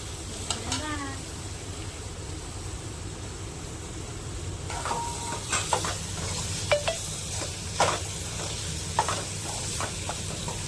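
Tomatoes cook in ghee in a pan on a gas stove for a village corn curry, a soft, steady sizzle with scattered stirring clicks and a brief voice near the start.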